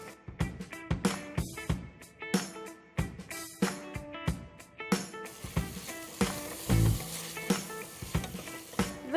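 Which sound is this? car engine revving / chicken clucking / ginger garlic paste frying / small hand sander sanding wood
ginger garlic paste frying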